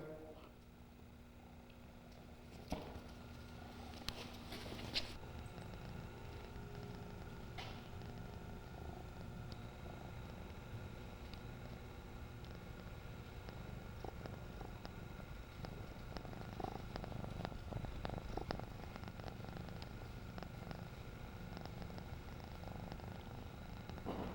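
Low, steady cat purring runs throughout at close range, a continuous rumbling drone with occasional faint handling noises.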